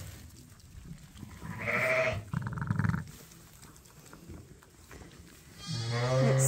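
A Suffolk ewe bleats loudly near the microphone among her newborn lambs, with several distinct calls of varying pitch and a longer bleat at the end, set against a quiet barn background.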